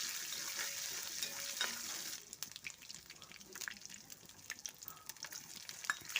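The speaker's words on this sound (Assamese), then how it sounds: "আলুখিনি মই ফ্ৰাই কৰি ল'ম।" Potatoes frying in a pan for an Indian-style masala pasta, a steady hiss of sizzling oil with stirring scrapes and small crackles, louder at first then thinner and spattering, with no talk.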